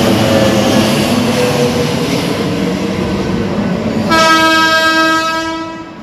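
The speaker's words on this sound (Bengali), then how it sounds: "সাড়ে ছটার বনগাঁওটা ঢুকে যাচ্ছে স্টেশনে।" A Bangaon local train rolls into a station with a loud, continuous rumble of wheels and carriages, then blasts a sustained horn near the end before the noise eases off.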